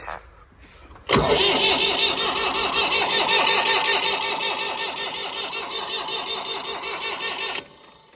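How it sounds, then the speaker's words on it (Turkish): A motor with a faulty automatic starter struggles to start during field preparation: a loud, steady grinding engine roar kicks in abruptly, runs for about six seconds with a rhythmic churn, then cuts off. "Motor otomatiğinde sıkıntı var. Onunla alakalı işte. O yüzden motor biraz otomatiklerken zorlanıyor."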